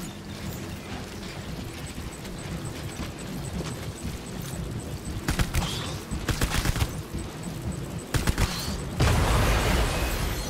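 Bursts of booming explosions and rapid crackling blasts in Death Stranding Director's Cut, clustered in short volleys over a steady background rumble.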